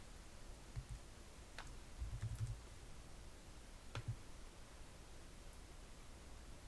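Faint, sparse keystrokes on a computer keyboard as the drug name simvastatin is typed, a few soft clicks and a short cluster heard close but quiet over a steady background hiss, with no talking.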